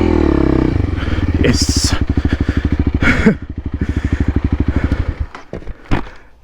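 Honda CRF300L dual sport motorcycle riding off-road, its single-cylinder engine thumping in a rapid, loud pulsing beat that rises and falls with the throttle, with wind and clatter, and a brief spoken word.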